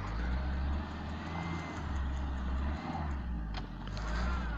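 A car stuck in snow revs its engine in sustained, droning bursts as it tries to pull away, the motor rising and dipping at steady loudness with no talking.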